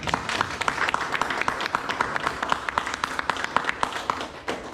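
A church congregation claps in response to a Spanish-language sermon on Abraham's covenant, loud and fairly close, the claps falling into a quick, even rhythm that holds for several seconds.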